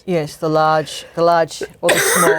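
A person with a persistent cough lets out a short, harsh cough at the end, right after a brief stretch of spoken talk.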